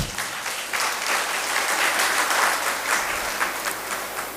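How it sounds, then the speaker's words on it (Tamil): Audience applause at a Tamil astrology gathering, a thick, continuous burst of many hands clapping, steady and fairly close throughout the clip with no talking. "பலத்த கரகோஷங்கள் எழுப்பலாம்."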